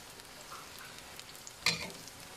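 Eggplant slices pan-fry in oil with a low, steady sizzle, topped by one sharper crackle near the end; no one speaks.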